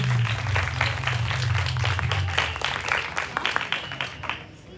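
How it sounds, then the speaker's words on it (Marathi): An audience at a speech competition applauds someone speaker, a dense burst of clapping from many hands that thins and fades toward the end, with a low hum underneath. "शिवांशसाठी टाळ्या सर्वांकडून"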